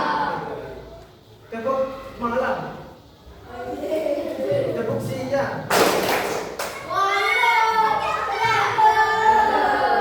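Primary school children clap together in rhythmic bursts amid a lively classroom, with young voices and an adult speaking over and between the claps.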